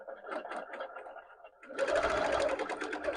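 A BERNINA sewing machine stitches a line along a ruler guide, its dense mechanical whir starting midway and running steadily at close range after a softer stretch of handling noise.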